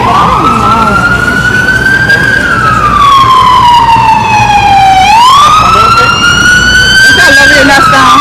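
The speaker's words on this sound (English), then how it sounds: "Don't you love hearing that sound? What sound? The siren." A loud siren wails up and down in long sweeping tones, very close and continuous, with traffic rumbling underneath.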